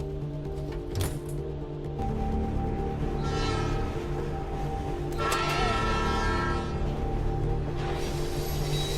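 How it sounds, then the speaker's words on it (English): A train horn blares from an approaching train in the video game Life Is Strange, with rumbling rail noise and repeated horn blasts growing closer under tense music. "The train's coming!"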